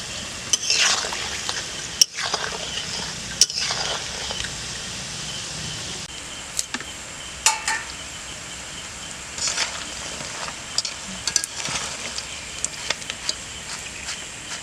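Masala kaju, small fried snacks made from flour dough, being stirred while frying in hot oil: a soft continuous sizzle with intermittent sharp scraping clicks and clatters of the spatula, close up, no talk.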